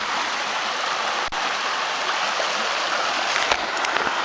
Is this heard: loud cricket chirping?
no